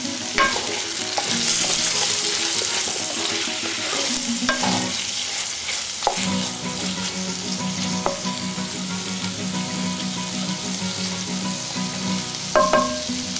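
Onions sizzling in an oiled pan for a chicken and prawn dish, a spatula stirring and scraping in uneven strokes with occasional sharp clacks over a constant close frying hiss; no one speaks.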